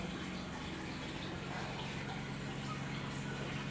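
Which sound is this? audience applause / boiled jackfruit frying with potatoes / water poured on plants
water poured on plants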